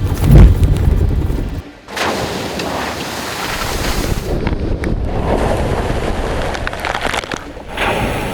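A lifted Jeep Wrangler JK on big tires plows through water off-road, giving a loud, continuous rushing wash and splash with wind-buffeted roar, a brief dip in the middle, then steady churning to the end.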